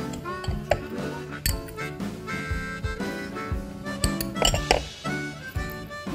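Seasoning with minced garlic and chopped green onion is mixed in a bowl, giving repeated close clinks and scrapes of a utensil against the dish in an uneven rhythm.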